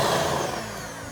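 A hand mixer whirs steadily through butter, vanilla and milk for buttercream, a close, continuous motor drone that eases slightly as it runs.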